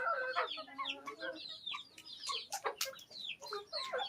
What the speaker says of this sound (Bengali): দেখেছো মুরগিগুলো কী অবস্থা হয়েছে